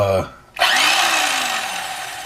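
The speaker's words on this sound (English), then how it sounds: "electric knife. So hopefully this will give me the edge I need, folks." A person speaks briefly, then an electric knife whirs to life with a high, steady motor whine that eases slightly as it slices through smoked brisket cooked on a Pit Barrel Cooker.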